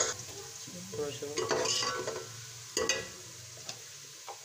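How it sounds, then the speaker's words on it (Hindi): Onions frying in oil in a cooking pot, with a steady soft sizzle and intermittent stirring scrapes of a spoon against the metal, close and moderately quiet. "अब इसमें हम डाल देंगे प्याज, इसको अब थोड़ा ब्राउन,"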